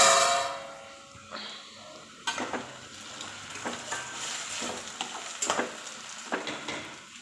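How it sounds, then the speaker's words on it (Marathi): Potatoes frying in a pan produce a broad, continuous sizzle that swells after a quiet opening, with intermittent utensil scrapes and clinks over it, close by. "आता बटाटा आपण छान फ्राय करून घेऊया."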